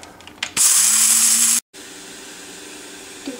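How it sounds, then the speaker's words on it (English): A coffee grinder whirs loudly for about a second as it grinds one cup of chana dal in a home kitchen, starting abruptly and stopping sharply, followed by faint rattling. "Take 1 cup of chana dal and grind it."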